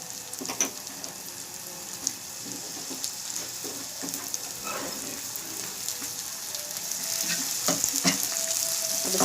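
Chopped onion and tomato frying in a pan for baingan bhurta, a steady close sizzle with scattered clinks and scrapes of stirring, growing slightly louder toward the end; no one talks.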